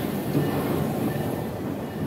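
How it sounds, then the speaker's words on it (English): A train at Busch Gardens Tampa theme park rumbles past at steady volume for about two seconds, a dense low mechanical roar with faint rail rattle and no talking over it. "There's the train."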